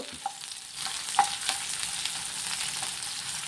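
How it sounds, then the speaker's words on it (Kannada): Onions, ginger and garlic fry in a little oil for a boneless chicken dry fry, a soft, steady sizzle with a few faint clicks and taps, quiet and close with no talking. "ಅಲ್ಲಿ ನಾನು ಎರಡು ಸ್ಪೂನ್ ಎಣ್ಣೆ ತಗೊಂಡಿದ್ದೇನಲ್ವ ಅದರಲ್ಲೇ ಇದನ್ನು ಫ್ರೈ ಮಾಡಬೇಕು"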